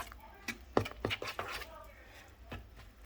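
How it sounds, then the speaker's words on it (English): A spoon stirs cornmeal, flour and sugar in a mixing bowl for hush puppies, with a string of close scraping and knocking strokes against the bowl, irregular and moderately loud, then quieting. "So let's go ahead and stir this in"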